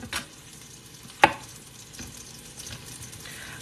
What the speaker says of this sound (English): I'm chopping up the shiitakes, and then we're gonna fry them in the butter with the mushrooms.